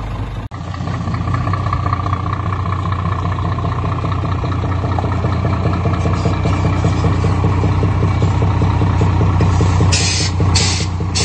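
A Scania truck engine roars steadily and loudly throughout, a deep continuous drone rising slightly in the last seconds, with hissing bursts near the end.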